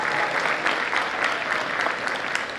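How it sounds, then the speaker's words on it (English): Steady, loud applause from an audience at an 8th grade parent night, honoring a school JROTC program. The clapping is dense and continuous from start to finish with no pauses. "Let's give them a round of applause"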